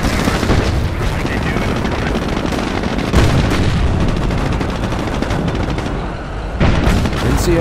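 Loud, dense gunfire and explosions from the World War II strategy game Company of Heroes fill a British versus Wehrmacht skirmish, with continuous rattling shots and booms under occasional radio-style voice lines.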